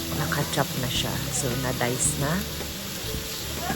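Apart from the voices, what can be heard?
beef frying in a pan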